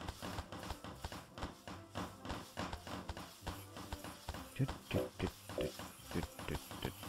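Pigs at a pig farm in the video game Micro Town oink and grunt repeatedly in a busy, rhythmic stream, close and fairly loud against a dense layer of game background noise.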